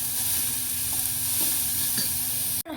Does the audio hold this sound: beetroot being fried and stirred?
yes